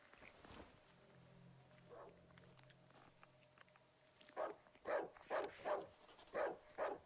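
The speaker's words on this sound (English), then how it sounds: "Ah, dogs over there." Dogs in the forest of the horror game Darkwood bark in a quick run of about six loud, evenly spaced barks near the end, after a quieter stretch with faint ambience and a few distant yelps.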